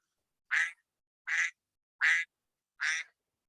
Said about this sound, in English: as you hear, that duck right there